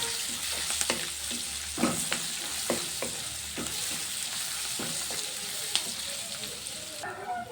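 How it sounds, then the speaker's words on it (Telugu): Garlic and red chilli paste frying in ghee, a constant bright sizzle with repeated scraping strokes of a stirring spoon against the pan, close and steady with no talking. "మొత్తం పేస్ట్ ఇందులో యాడ్ చేస్తాం కదా, బాగా నెయ్యిలో కొంచెం ఫ్రై చేసుకోవాలి."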